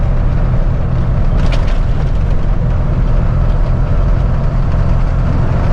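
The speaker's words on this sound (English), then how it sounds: "there's the engine fan" A flatbed straight truck's engine cooling fan roars steadily alongside the running engine, a loud, close, constant low rumble and whoosh with no breaks.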